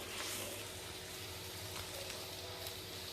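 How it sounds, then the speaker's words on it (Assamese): Garlic and ginger fry in a pan as the first step of a duck recipe, giving a steady, quiet sizzle with faint crackles throughout and no break. "অকণমান এতিয়া কেঁচা গোন্ধ নহৰু আদা কেঁচা গোন্ধ নযোৱালৈকে অকণমান ভাজি লওঁ"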